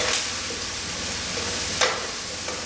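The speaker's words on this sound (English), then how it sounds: "And we're going to saute these veggies for about 5 minutes." Vegetables and garlic sautéing in a pan give a soft, steady sizzle, with a couple of brief scraping stirs breaking through; quiet and close, with no voices.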